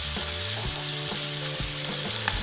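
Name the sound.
spices frying with raw banana kofta curry masala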